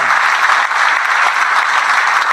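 Live comedy audience applauding Johnnie Casson, a loud, dense, continuous clapping that holds steady throughout with no voices above it.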